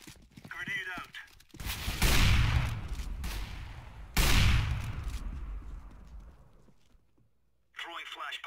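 A grenade is thrown and explodes in a video game with two loud booming blasts, each trailing off into a long rumbling decay, and brief radio-style voices before and after.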